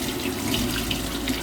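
Tap water runs and splashes into a bathroom sink during face washing, a short continuous splashing gush heard up close with no voices.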